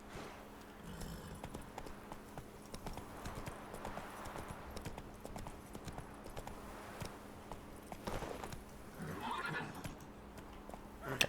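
Roach, a horse in The Witcher 3 game, trots with steady repeated hoof clip-clops and gives a neigh, under a continuous background hum at moderate level.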